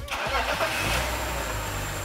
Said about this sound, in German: Jetzt starten wir einmal den Wagen